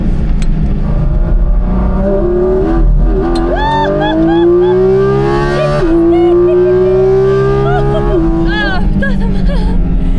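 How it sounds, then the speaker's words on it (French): A Porsche GT4 RS race car accelerates hard at around 230 km/h, its engine note climbing in pitch through upshifts with sharp drops at each gear change, loud and close in the cabin, with a voice talking over it. "Les vitesses se passent. Là on est à 230 et on doit freiner à 230 à chaque fois."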